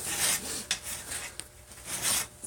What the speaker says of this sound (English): filing sounds nicer and more rhythmic than a belt sander anyway